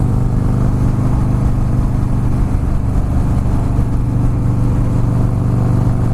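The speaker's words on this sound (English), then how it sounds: "The engine sounds great." A Harley-Davidson Fat Boy S motorcycle fitted with a Memphis Shades bullet fairing rumbles loudly and steadily while being ridden, its deep engine drone mixing with wind noise close up.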